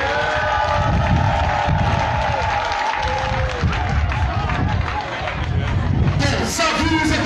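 A loud crowd at an outdoor celebration in honour of Simone Gbagbo cheers, shouts and claps in a continuous roar, with voices and a public-address speaker cutting through the noise.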